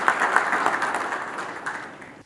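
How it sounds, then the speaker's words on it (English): A conference audience at a business plan competition grand finale claps together in a full, steady round of applause that gradually tapers off over about two seconds. "Would you please give them a round of applause so they continue to support us?"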